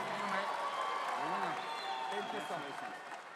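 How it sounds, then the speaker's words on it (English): An awards ceremony audience applauds, a steady wash of clapping under a person speaking over it, fading slightly toward the end. "Round of applause."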